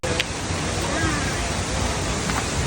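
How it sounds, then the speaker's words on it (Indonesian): Sendang Gile waterfall in Senaru, North Lombok, pours with a loud, broad and continuous roar of falling water, close and steady throughout. "Di sini terdapat dua lokasi air terjun, yaitu Sendang Gile dan Tiukelep."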